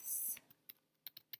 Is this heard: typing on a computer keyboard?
yes